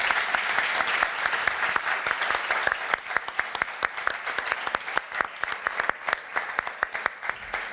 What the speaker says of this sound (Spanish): esto es una merece un aplauso y muchas gracias por estar aquí